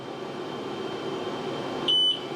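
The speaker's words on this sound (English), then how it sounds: "that little beep was telling me it's ready" A single short, steady, high-pitched ready beep from an xTool S1 laser engraver sounds near the end over a constant low hum of fan or machine noise.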